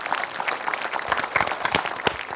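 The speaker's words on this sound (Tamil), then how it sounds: "நல்ல ஒரு பெரிய கைத்தட்டல் கொடுத்துடலாம்." A studio audience at a Mattu Pongal special TV game show with Instagram couples claps in a dense, uneven patter of many hands, moderately loud and continuous for a couple of seconds.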